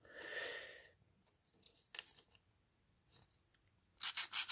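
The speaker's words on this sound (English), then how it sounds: "Just sand it down a little bit and no pressure." A wooden backboard is sanded by hand with light pressure, giving faint, short rasping strokes separated by quiet pauses, with a brisker burst of scrubbing at the end.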